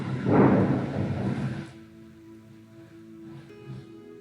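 Deep rolling thunder from a storm rumbles loudly for about a second and a half, then fades into a faint low hum with a few soft distant knocks.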